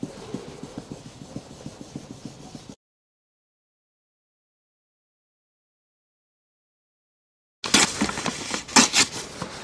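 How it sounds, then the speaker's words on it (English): 2500 grit sandpaper is rubbed over a scratch in car paint with close, scratchy strokes. The sound runs for a few seconds, drops into a long silence, then comes back as louder, rougher rasping. "I'm just going to try to smoothen it down a bit more with my 2500 grit"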